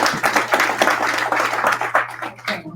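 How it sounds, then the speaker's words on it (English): Town hall audience applauding at a policing forum, a dense, steady patter of many hands clapping for a few seconds, fairly near, tapering off at the end. "Give yourselves a round of applause."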